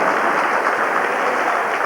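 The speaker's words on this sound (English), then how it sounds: "Give him a clap." A Butlin's holiday-camp audience claps for a child, a steady, dense burst of applause filling the room, loud and close throughout.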